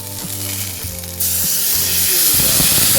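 Water poured into a pan of frying masala for a fish curry (macher jhol) sets off a loud burst of hissing sizzle partway through, after a softer rhythmic clicking from the cooking.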